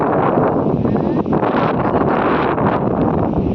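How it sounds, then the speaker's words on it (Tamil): Steady wind gusting outdoors near a fishing canal in a rural village, a loud, continuous rushing roar buffeting the microphone throughout with no pauses. "காற்று சூப்பராக"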